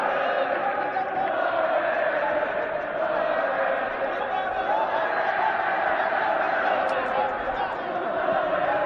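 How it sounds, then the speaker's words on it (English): A Vietnamese football crowd in the stadium during a U23 Asian Cup group match against Syria, a steady, dense roar of cheering voices at a distance beneath continuous commentator talk. "Vietnam crowd doing whatever they can to get behind their team"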